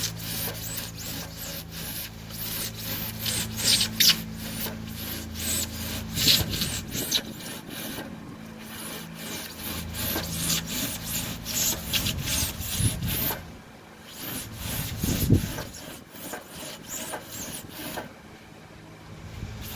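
A hand saw moves in quick, rhythmic strokes along a guide bolted down to hold it steady, cutting material for Jon boat pontoons. The rasping strokes are close and even and continue alone for the whole stretch, with brief pauses.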